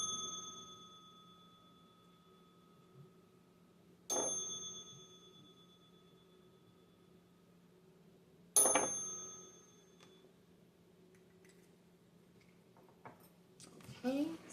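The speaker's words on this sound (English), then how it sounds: "I'll be ringing that bell in 3, 2," A small bell rung three times, each strike a bright ding ringing out and fading over a few seconds, with a soft hum underneath and faint noises near the end.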